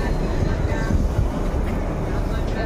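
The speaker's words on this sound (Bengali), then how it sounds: "তো ট্রেন ছেড়ে বেরিয়ে চলে গেল।" A local train pulls out of Nabadwip Dham station heading toward Katwa, a loud, close, continuous rumble of wheels and carriages.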